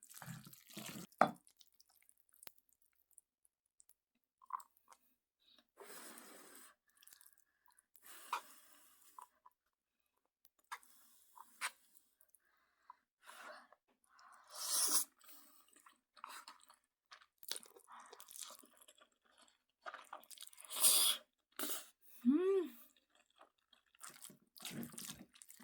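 Jjapaghetti noodles dressed with Buldak sauce being eaten, with scattered close chewing and slurping bursts and soft crunches separated by quiet pauses, plus brief watery clinks; no talking.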